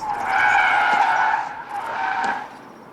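Tires of a 2024 Opel Astra Sports Tourer Electric skid and squeal loudly through a moose-test evasive maneuver, two sustained screeching bursts with a brief dip between them.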